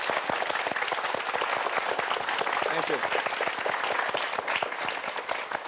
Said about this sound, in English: please give Adam a applause